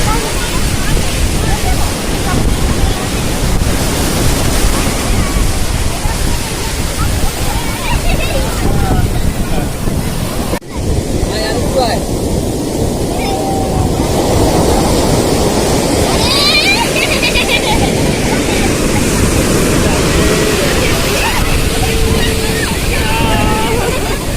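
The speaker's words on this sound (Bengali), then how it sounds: "কত জল আসছে, জোয়ার দেখুন।" Ocean surf rolls in at Puri beach as the tide rises, a steady, loud roar of breaking waves and wind noise throughout, with voices faintly mixed in.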